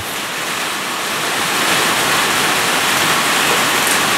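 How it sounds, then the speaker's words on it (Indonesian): Heavy rain falls in Parung, a dense, steady roaring hiss that stays close and constant and swells slightly louder midway, with no voices. "hujan di Parung ini"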